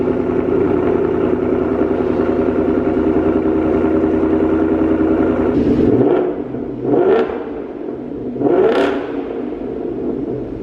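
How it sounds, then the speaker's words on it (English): Custom modified 2025 Ford Mustang GT with a new exhaust burbles at a loud, steady idle, then gets three sharp throttle blips that rise and fall quickly, each followed by a return to idle. "A little teaser of exhaust."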